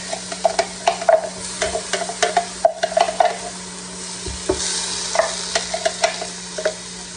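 Chopped onion frying in a few squirts of oil in a hot pan, with stirring clatter and faint sizzle, repeated scraping and tapping close by, no talk.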